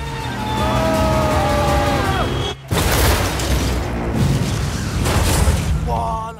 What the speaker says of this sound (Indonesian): mobil jamet meledak setelah bertabrakan dengan mobil lain.